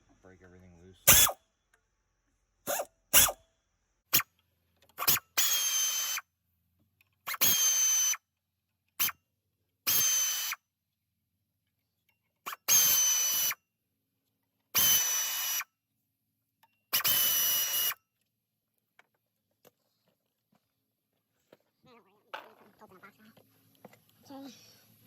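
Power tool loosening pulley bolts on a 24-valve Cummins engine, a series of short sharp impact bursts at irregular intervals, close and loud, with quiet gaps between them.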